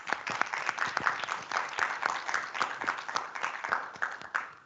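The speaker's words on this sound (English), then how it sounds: "that's worthy of a round of applause" An audience at a student general body meeting gives a round of applause: moderate, somewhat sparse clapping with clearly separate individual claps, steady throughout.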